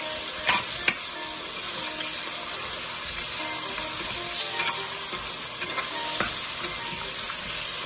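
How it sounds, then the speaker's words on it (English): Spinach curry sizzles steadily in a pot while being stirred, a continuous close frying hiss with a couple of sharper clicks of the spoon against the pot, no voices. "as you stir that together, add your peppers"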